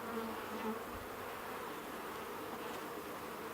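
Honey bees buzzing in an open beehive, a dense steady drone of many bees, close and continuous with no pauses.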